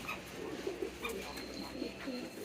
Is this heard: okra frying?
no